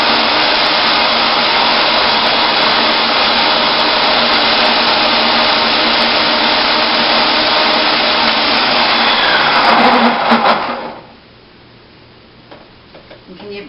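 A blender running on high whirs cashews into a creamy base for ranch dressing, a loud, continuous motor whine that lasts about ten seconds before it cuts off abruptly, leaving quiet room noise.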